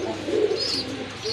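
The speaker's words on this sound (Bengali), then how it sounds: "মাশাল্লাহ শাটিনের নর কবুতর" Male satin pigeon cooing close by in a soft, throaty burst, followed by a thinner high call near the end, with no talk over it.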